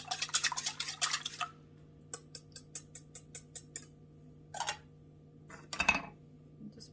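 Eggs are whisked in a bowl while making a kale and onion crustless quiche: a rapid burst of metallic clinking and tapping, then a slower series of separate taps against the bowl, with short pauses between.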